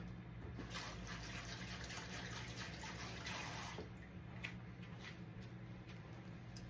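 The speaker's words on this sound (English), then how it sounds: "Wash my hands." Hands being washed under a running kitchen tap during holiday baking prep, a steady quiet rush of water with faint splashes, close by and alone.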